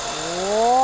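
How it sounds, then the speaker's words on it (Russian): Greenworks G40CS30 battery chainsaw cutting through a 20 cm log, giving a steady motor whine that rises in pitch and grows louder over the short cut, with no voices. "Давайте еще раз покажу, как работает наша пила."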